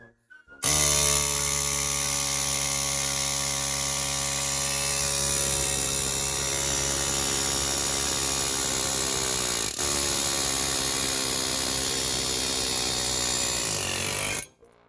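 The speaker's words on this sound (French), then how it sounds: "With the zip gun," An air zip gun hammers against a brake drum in one long, continuous high-pitched buzzing burst of about fourteen seconds, loud and close, starting and stopping abruptly.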